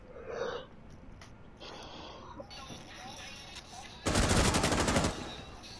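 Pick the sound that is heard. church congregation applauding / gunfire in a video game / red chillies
gunfire in a video game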